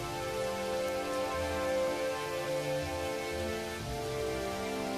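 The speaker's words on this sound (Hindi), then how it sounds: "एक दिन बड़ी तेज बारिश होती है" Heavy rain pours steadily in an even, continuous hiss that never lets up, with a low rumbling bed underneath and no voices.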